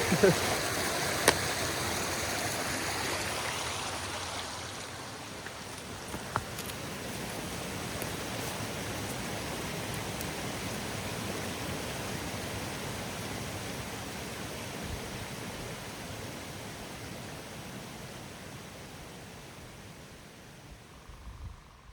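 A high-running stream at a hiking trail crossing rushes in a dense, constant roar close by, steady throughout and easing slightly toward the end, with no voices.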